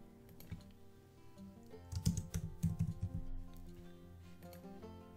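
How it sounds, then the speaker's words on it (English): Typing on a computer keyboard, setting up text for personalized vinyl Christmas ornament designs; a burst of quick, close keystrokes clatters for about a second and a half in the middle, with quieter scattered clicks around it. "Just type the word or the name if you're using names"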